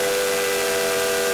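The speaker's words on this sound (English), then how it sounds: "He blew his three-chime steam whistle as loudly and as boomingly as he could." A cartoon tank engine blows its three-chime steam whistle loudly and boomingly, one sustained, steady chord with breathy steam hiss, heard alone.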